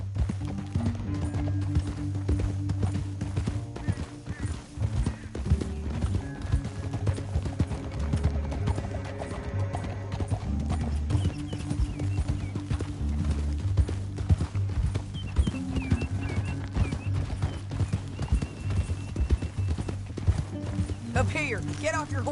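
Horse hooves galloping in a PS4 Western video game, a steady rapid clip-clop running throughout under voices talking and background music.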